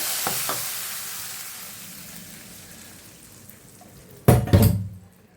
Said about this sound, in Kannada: ಅದಕ್ಕೆ ಒಗ್ಗರಣೆ ಹಾಕ್ಬಿಡ್ತೀನಿ.